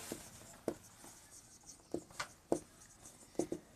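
A maths formula being written by hand, likely pen or chalk strokes, as quiet, close scratching taps in short separated bursts, about half a dozen marks, alone without talk.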